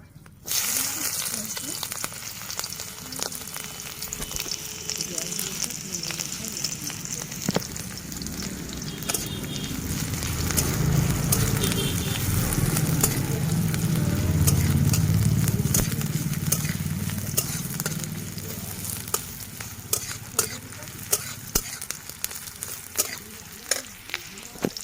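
Sliced onions fry in hot oil in a pan, giving a steady, close sizzle throughout with scattered sharp crackles and clicks and a gentle swell in the middle.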